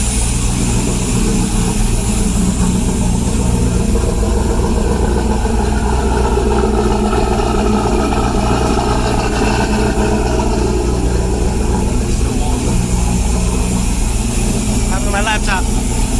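A turbocharged engine runs loud and steady after being primed, with a continuous droning rumble and turbo whoosh throughout, while people talk over it.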